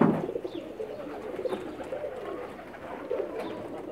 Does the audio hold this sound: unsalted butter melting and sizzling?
no